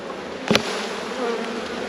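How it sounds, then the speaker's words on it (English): Honeybees shaken off a comb during a queenless hive rescue, a dense, loud, continuous buzz close up, with one brief thump partway through. "I might just quickly shake the bees off and then attempt to fix it."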